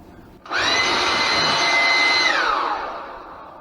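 An electric power tool suddenly whirs to life with a high, steady whine, holds for about two seconds, then winds down and fades.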